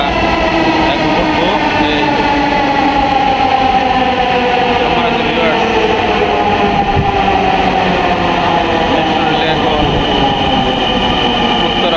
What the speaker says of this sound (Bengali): আমাদের মেট্রো রেল চলে আসছে।